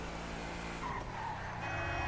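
Tires squeal briefly as an Audi skids in GTA V, a short screech over steady engine and road noise, with faint harmonic bands and no speech.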